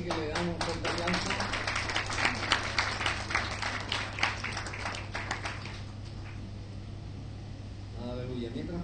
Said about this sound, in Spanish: así que le damos un fuerte aplauso